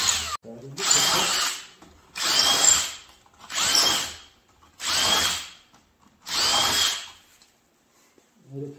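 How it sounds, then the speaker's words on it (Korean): A power drill bores holes through wood while a traditional wooden hive box for native honeybees is prepared, running in five separate bursts of about a second each with short pauses between them, close and loud. "이렇게 이제 양쪽으로 구멍을 천공해 놓고"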